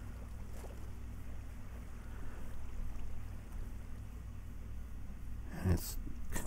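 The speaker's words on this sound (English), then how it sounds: "I do like this water here. It goes down the stairs." Minecraft water rushing down a staircase while a player rides the current, a steady watery wash with a low rumble that runs throughout, plus one brief louder splash near the end.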